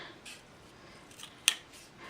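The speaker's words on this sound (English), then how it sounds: "I'm just gonna snip off the corners like that" Scissors snip through the corners of a small cardboard cupcake box, giving one sharp, close cut after a stretch of faint rustling, then a second snip at the very end.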